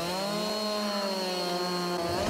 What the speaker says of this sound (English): I have my trusty chainsaw and my trusty super strength